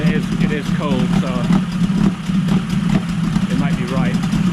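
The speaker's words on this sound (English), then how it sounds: "I mean, it does sound like it's idling a little high," Close by, a cold Yamaha 20A two-stroke outboard motor holds a slightly fast idle, its even, raspy hum continuous beneath a man's speech.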